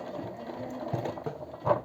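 A sewing machine stitches a leather wallet in short, slow bursts of mechanical whirring and needle thumps, close and fairly quiet, ending the seam at the bar tack.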